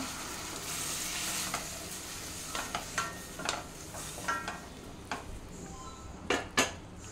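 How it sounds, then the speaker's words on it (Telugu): A spoon stirs a bottle gourd curry mixture in a pan on the stove, soft sizzling under a series of scraping strokes and light metallic clinks that grow sharper toward the end. "అది వేసేసి ఇప్పుడు మిక్స్ చేసుకుందాం"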